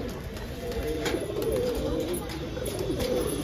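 A pigeon coos in a soft, continuous warble close by, steady against a faint hiss of background noise, with no clear breaks.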